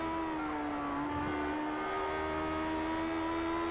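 Onboard a Lionheart Retro Series race car, the 48 car, at Laguna Seca: a steady, loud engine drone holds a sustained pitch with layered harmonics, rising slightly as the car pulls up the hill, with no talk.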